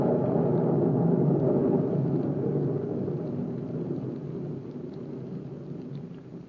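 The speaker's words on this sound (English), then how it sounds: "I'm superstitious about the rain." Steady rain with a low rolling thunder rumble, set as a wet-night effect in an old gothic horror radio drama; loud and continuous at first, slowly easing off, with no voices.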